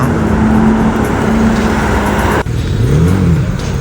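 A BMW G82 car's engine revs steadily up close at night out with a group, a sustained droning tone that cuts briefly near the middle and then climbs again in a rising, falling sweep.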